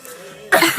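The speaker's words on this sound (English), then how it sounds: "we're here to show you the proper way to cough." A quiet stretch gives way to a short, close cough and throat clearing, a quick polite burst meant to get attention.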